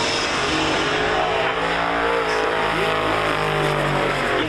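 A race car on a racetrack blasts on and off the throttle while sliding sideways, a loud, dense engine roar with rising and dipping revs, continuous and near.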